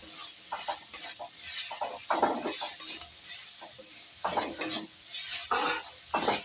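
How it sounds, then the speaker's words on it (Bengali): Grated carrot and vegetables stir-fry in a pan for green bread pakora filling, with a soft sizzle under repeated close bursts of a spatula scraping and tossing, and no talking. "এটা একটু নাড়ি চাড়িয়ে ভেজে নেব"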